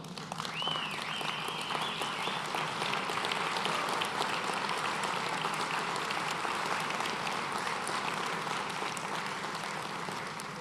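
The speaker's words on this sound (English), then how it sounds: "And let's give them a round of applause." An audience applauds at a ceremony after being asked to stand: dense, sustained clapping that stays loud and even throughout, with no voices over it.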